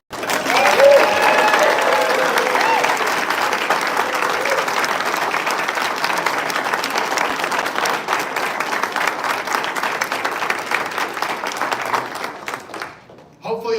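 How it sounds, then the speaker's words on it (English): A room of people at an alumni homecoming open house gives Steve a long, loud round of applause, dense and steady for about twelve seconds before tapering off abruptly. "give Steve the biggest round of applause in the entire world"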